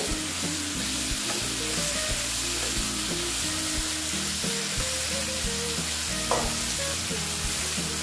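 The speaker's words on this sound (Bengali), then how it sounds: "দেখো এটা আমার মোটামুটি কষানো হয়ে গেছে।" Soybean and egg curry with potato sautéing in a pan, a steady sizzle with repeated stirring scrapes throughout, close and fairly loud with no talk.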